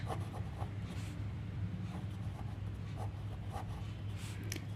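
Scratchy strokes of writing on a board during a Class 10 English grammar lesson, in short irregular bursts over a steady low hum, close and fairly quiet.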